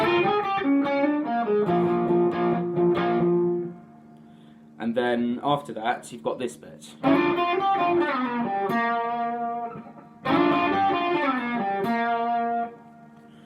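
Overdriven electric guitar plays a song's intro riff with slides, in quick bright bursts of bent and sliding notes separated by short pauses. Someone speaks briefly between phrases.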